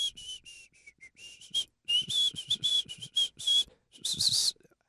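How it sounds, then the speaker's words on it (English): Human whistling on a football podcast: a series of bright, piercing whistled notes in short bursts with brief gaps, fairly close and loud, with no talk over it. "let's do our best whistle"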